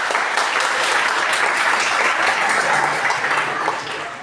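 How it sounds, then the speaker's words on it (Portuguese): Sustained audience applause at a panel with former students, a dense continuous clapping that holds steady and then thins slightly at the end, with no talk over it. "Uma salva de palmas, pessoal."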